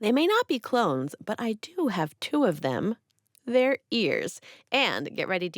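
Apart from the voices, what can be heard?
No distinct noise like a dog, phone or traffic.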